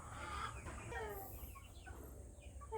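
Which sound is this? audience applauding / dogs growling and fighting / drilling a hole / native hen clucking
native hen clucking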